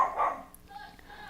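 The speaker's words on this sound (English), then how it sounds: "my dog's going crazy" An excited dog barks in a brief burst, moderately loud but slightly distant, then fainter yips trail off beneath a quiet indoor room tone.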